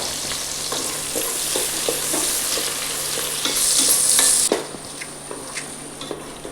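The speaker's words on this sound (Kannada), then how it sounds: "3 ನೀರುಳ್ಳಿ ಫ್ರೈ ಮಾಡ್ಕೊಂಬ." Three onions fry in a pan for Kundapur-style biryani, giving a steady, close hiss of sizzling oil. Light clicks of a stirring spoon run through it, and the sizzle swells briefly before dropping back.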